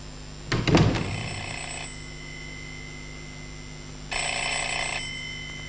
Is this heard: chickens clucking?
no